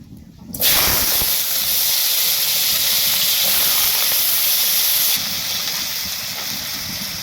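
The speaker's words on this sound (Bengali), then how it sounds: "প্রথমে আমি আলুটা ভেজে নেব" Potatoes dropped into hot oil in a heated wok burst into a loud, close hiss that starts abruptly, then holds steady before easing slightly toward the end, with no speech.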